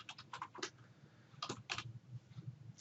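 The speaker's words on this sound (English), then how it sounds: "we're going to type in item" Close, quiet typing on a computer keyboard: short bursts of a few crisp key clicks, a pause, then another cluster of taps, with no voices.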